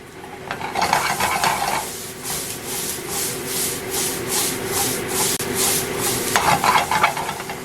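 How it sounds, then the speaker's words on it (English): Four cloves of chopped garlic frying in a pan for a vegan pot roast, heard as a steady sizzle with rhythmic scraping and stirring strokes, close and fairly loud throughout. "I got here 4 cloves of garlic chopped up. I throw it right in there."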